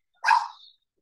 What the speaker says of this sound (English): the dogs are being crazy